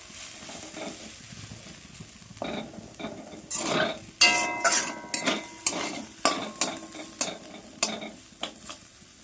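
Potatoes sizzle and fry in a pan on a high gas flame while a utensil stirs and scrapes them in a series of sharp, repeated clatters over the continuous frying hiss.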